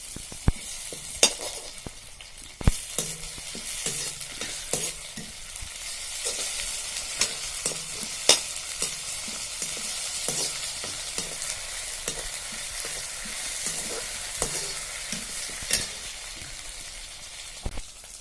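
Onions fry with ginger garlic paste for a pork curry, a steady close sizzle broken by regular sharp clanks and scrapes of stirring, with no voices.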